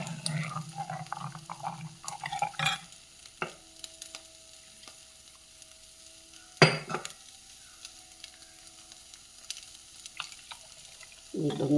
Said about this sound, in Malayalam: ഇനി നമുക്ക് തേങ്ങ അരച്ചത് ചേർക്കാം